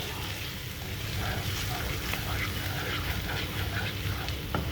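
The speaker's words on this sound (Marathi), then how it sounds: "ही पेस्ट आपल्याला त्याच्यात टाकून चांगली परतून घ्यायची आहे" A paste of onion, tomato, melon seeds and cashews fries in hot oil with a dense, continuous sizzle and occasional stirring scrapes, steady and close throughout.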